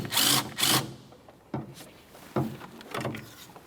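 A power tool spins out a 10mm mounting bolt under the hood of a 2017-2024 GMC Acadia 3.6L V6, near the coolant reservoir, in several short, close whirring bursts separated by pauses.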